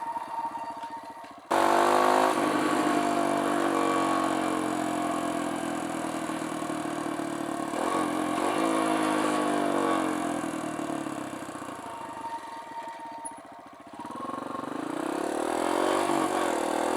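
A Kawasaki KLX170 dirt bike, a KLX140 rebuilt with a big bore top end, ridden around a neighbourhood: a loud, close single-cylinder engine starts abruptly, drones and revs with gear changes, then rises again, no talking.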